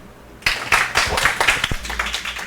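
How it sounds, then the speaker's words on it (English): Clapping from a conference audience greeting a speaker named Henry at a talk on React, Vue and Svelte; claps begin sharply after a short quiet gap, then run as a scattered, moderately loud patter from a small crowd. "let's give a warm applause to Henry"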